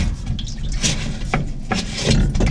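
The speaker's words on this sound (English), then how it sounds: "Got water coming out." Water spills and splashes out of a Whirlpool Duet front-load washing machine being taken apart, close-up irregular trickles and drips with a few sharper splashes against low background rumble.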